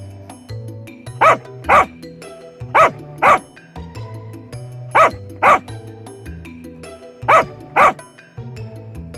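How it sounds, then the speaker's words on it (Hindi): Dogs bark in quick pairs of loud, sharp woofs, repeating four times over a steady low musical background. "कुछ कुत्ते उस पेड़ के गुफा के पास आकर भौं भौं भौं करके भौंकना शुरू करते हैं"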